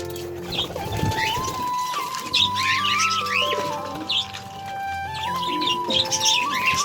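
Pigeons coo and flutter nearby, with soft chirps and rustling over a steady low hum.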